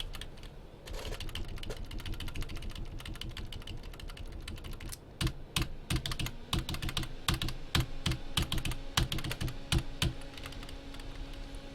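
Steady clatter of keys on a non-mechanical computer keyboard during live PC benchmarking of a Ryzen 7 1800X build, quick irregular taps running continuously at close range with no speech.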